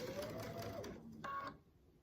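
Sewing machine stitching quilt pieces, a steady mechanical whir running for about a second and a half with a brief higher buzz near the end before it stops.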